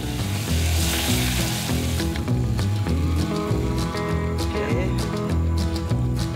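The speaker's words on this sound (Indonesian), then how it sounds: "Setelah ikan selesai digoreng, langsung kita tumis bumbunya terlebih dahulu." Spices being sautéed in a pan right after fish is fried give off a steady broadband sizzling hiss, loudest at the start, under continuous background music.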